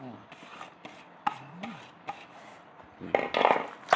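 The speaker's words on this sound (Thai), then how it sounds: "จะหั่นตะไคร้ใส่น้ำ" Knife chopping lemongrass on a cutting board, a steady series of sharp knocks that thicken into a rapid, louder cluster near the end, with no voices.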